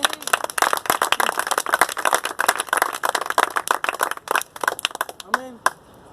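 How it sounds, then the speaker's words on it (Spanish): A church congregation claps loudly in strong, uneven bursts of applause, with voices talking and calling out over the clapping near the end. "Denle un fuerte aplauso al Señor"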